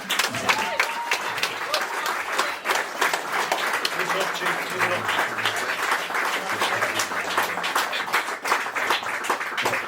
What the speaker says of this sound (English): So maybe one last round of applause for Michael Darragh McAuley.